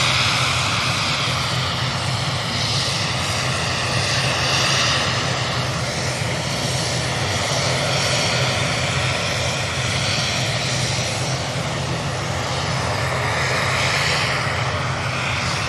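Jet engines of a Virgin Atlantic airliner on the runway roar continuously and loudly, a steady, close, sustained drone with no pauses.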